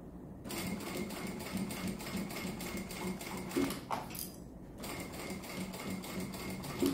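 A sewing machine stitches a bag kit at a slow, steady pace, beginning with a short reverse backstitch, giving a soft continuous rhythmic clatter with a brief pause partway, fairly quiet and close.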